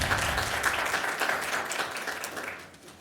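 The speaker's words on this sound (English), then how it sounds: "Thank you for the applause." Applause from the audience at a city council meeting in Livonia, steady clapping from a room of people that fades slightly toward the end.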